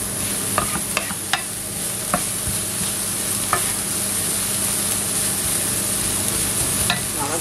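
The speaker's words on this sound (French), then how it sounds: "On va le mettre avec les champignons, puisqu'on va le faire revenir ensemble." Mushrooms sautéing in oil in a pan for stuffed endive gratin, a constant bright sizzle with several sharp utensil taps and scrapes scattered through, close and steady, no speech.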